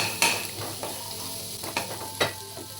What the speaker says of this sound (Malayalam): നമ്മുടെ ഓട്സ് കൈവിടാതെ ഇളക്കിക്കൊണ്ടിരിക്കണം